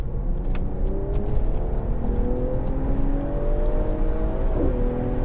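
A Mercedes-AMG GT 53 accelerates at full throttle, its engine note climbing steadily in a loud, continuous drone from inside the cabin, pitch rising then dipping briefly near the end as a gear changes.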